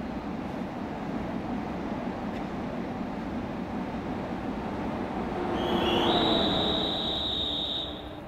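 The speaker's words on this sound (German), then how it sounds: "Oh, ICE wird vorbeigelassen" Rumbling rail noise of a train in a railway simulation, with a high-speed ICE train passing on a German line, steady rolling wheels building to a louder swell and a high squealing tone near the end.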